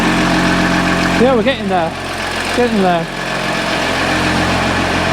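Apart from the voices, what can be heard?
Jeep Grand Cherokee Summit engine idling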